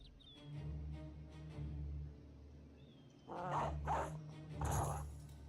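Dogs barking and growling in the video game Battle Brothers, a few gruff bursts over a steady low game drone, fairly faint.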